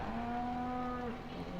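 A cow in Farming Simulator 2015 lets out a single long, low moo that sinks in pitch over about a second, heard close over a faint ambient hum.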